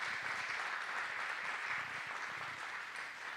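Audience applause at the opening of a Central American human rights forum, a steady broad clatter of many hands clapping for a few seconds, moderately distant and alone.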